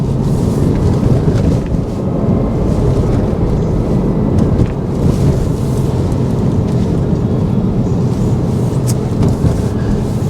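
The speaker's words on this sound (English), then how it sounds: "Windy bit over here" Heavy, blustery wind roars and buffets continuously over a Porsche Boxster 987 being driven on a road near Sydney, a dense low rumble with no voices.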